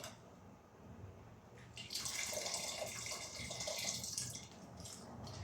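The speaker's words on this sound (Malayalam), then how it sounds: "നല്ലോണം പുളി നല്ലപോലെ കൈവച്ച് ഞെരടിയിട്ട് പുളി വെള്ളം ഇതിലേക്ക് ഒഴിക്കുക" Tamarind water is poured into a cooking pot while making rasam. The quiet, close splashing stream begins after a short pause and runs for a few seconds.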